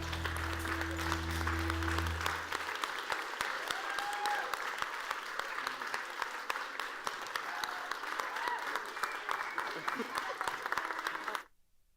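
Audience applause fills a summit hall at a food event, a dense, steady wash of many hands clapping that runs without pause, with a faint voice underneath, before cutting off abruptly near the end.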